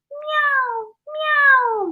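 A singer's voice imitates a cat's meow as a light head-voice exercise, giving two high, gliding meows one after the other, close and clear with a short gap between them.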